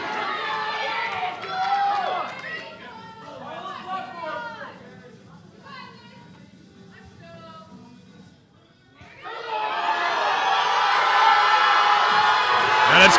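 Powerlifting meet crowd on its feet cheering for a lifter named Kari, mixed shouting and chatter at first, dipping briefly, then swelling into a loud, sustained roar of cheers and whoops.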